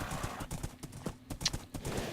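Horse hooves clip-clop in a video game, a brisk irregular run of close, loud hoofbeats moving across ground with no talking.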